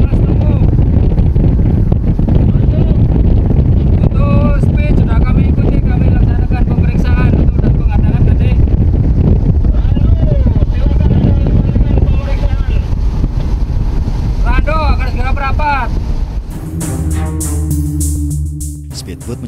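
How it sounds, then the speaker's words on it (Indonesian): A speedboat races across open water in a pursuit by a patrol boat off Tanjung Pinang, its loud, steady engine roar and hull slap heavily buffeted by wind noise, with brief voices audible near the end. "Speedboat mencoba untuk menghindari kejaran tim yang posisinya persis berada di belakangnya."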